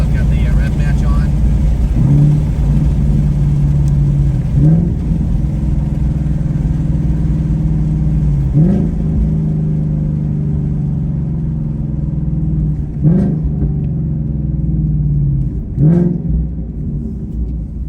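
A 2019 Ford Mustang GT with a Corsa active exhaust, heard close with the windows down as it leaves the freeway, rumbles steadily, and several sharp rev-matched blips from downshifts rise out of the drone.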